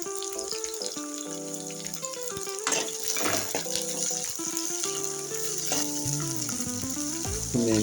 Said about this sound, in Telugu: మనం ముందుగా కట్ చేసి పెట్టుకున్న మిర్చి, పచ్చిమిరపకాయలు వాటిని దూరంగా వేయించుకోవాలి.